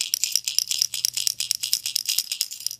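A small plastic Realis pencil fishing lure with an internal rattle is shaken quickly, producing a rapid run of bright, close clicking beads with no voices.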